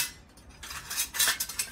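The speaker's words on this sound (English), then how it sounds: "It's outdoor pans." Stackable metal outdoor cooking pans being handled, a few quiet shuffles and then bright clattering clinks and scrapes as the pieces knock together, close and alone.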